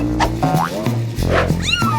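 A kitten hidden under a bucket meows in several short, rising and falling cries, close and fairly loud, with steady background music running beneath.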